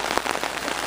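Steady rain falls outdoors on a prairie at a state nature preserve, a dense close patter of drops hitting surfaces with no voices.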